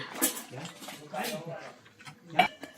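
Pilgrims at an ashram meal, eating mixed vegetables, chapati and rice, make scattered clinks of cutlery against metal plates, a few sharper knocks standing out near and far, with murmured voices underneath.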